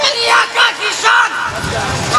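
A crowd at a religious gathering answers the takbir slogan with three loud, close, unified shouts in quick succession, followed by a brief rumble of voices.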